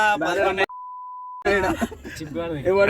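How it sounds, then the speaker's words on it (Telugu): A steady, pure-toned censor beep lasts under a second and cuts abruptly into lively talk, with voices right before and after it. "అన్నిట్లకి నేను బీప్ వేసుకోవాలంటున్నా"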